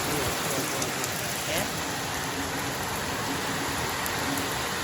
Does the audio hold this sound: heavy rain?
yes